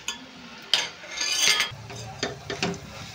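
Prawns and onions frying in a pan while being stirred, with clinks and scrapes of a utensil against the metal over a soft sizzle, close and moderately loud.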